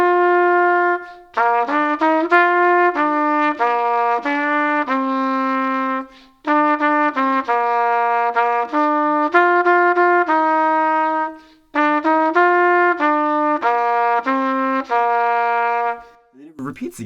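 The melody of When the Saints Go Marching In played on a single clear-toned instrument: a steady, loud run of distinct notes in three phrases with brief pauses between them, with no talking.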